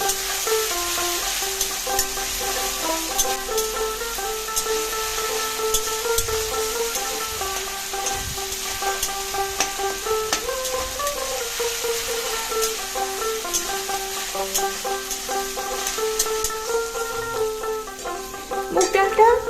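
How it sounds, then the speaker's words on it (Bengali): Moong dal fries in a tempering of spices in a pan, giving a steady, dense sizzle throughout, with faint background music running under it. "মুগ ডালটা দিয়ে একটু ভেজে নিতে হবে"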